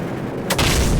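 A single heavy gunfire boom from Call of Duty 4: Modern Warfare, a sudden loud burst after a quiet lead-in, with the rumble lingering to the end.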